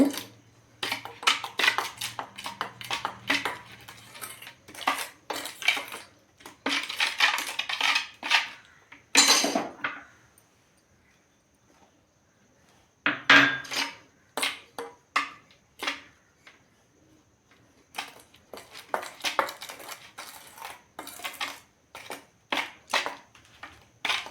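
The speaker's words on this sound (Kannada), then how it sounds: "ಇವಾಗ ನಾವು ಎಷ್ಟು ಬೇಕಷ್ಟನ್ನು ಹಾಕ್ಕೊಂಡು ಕಲಿಸ್ಕೊಳ್ಳೋಣ ಸ್ವಲ್ಪ" A metal spoon scrapes and clinks against a bowl while henna powder is mixed, coming in quick irregular bursts of tapping and stirring, close and fairly quiet, with a short pause about midway.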